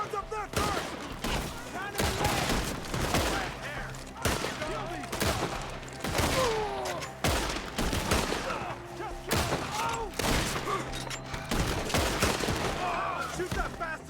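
Repeated gunfire from a Red Dead Redemption II shootout, with bursts of shots in an irregular rhythm over roughly fourteen seconds, fairly loud and dense, mixed with shouting voices and game ambience.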